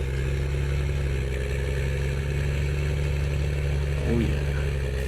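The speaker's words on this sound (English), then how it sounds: "Listen to that engine." A farm vehicle engine in Farming Simulator 19 drones steadily at a low pitch, then briefly rises in pitch as it revs near the end.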